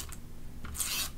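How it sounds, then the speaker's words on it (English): A tape runner rolls adhesive tape onto paper, giving short quiet rasping scrapes, one brief at the start and a longer smooth pull near the end, close and faint. "And then I'll use my tape runner to just add tape"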